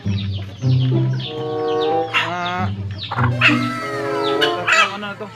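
A hen clucks repeatedly up close, with harmonic calls rising into a crow-like squawk; other chickens sound nearby and no one speaks.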